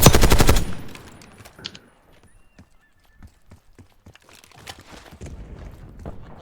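Gunfire in a video game: a loud rapid burst of automatic shots at the start, then scattered fainter pops and clatter at a lower level.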